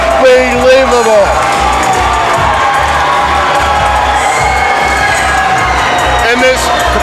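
A capacity wrestling arena crowd roars and cheers for new heavyweight champion Kongo Kong, loud continuous shouting and whooping, with a commentator talking over the din.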